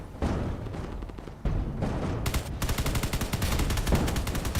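Heavy cannon fire from a destroyer-class gun in Space Engineers, a dense run of rapid booming shots that grows into a continuous barrage, loud and close, with no voices.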